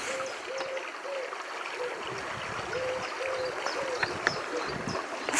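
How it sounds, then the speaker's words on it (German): Repeated soft hooting calls from a bird ring out at steady intervals over a constant rushing, trickling background. "Vögel am Singen."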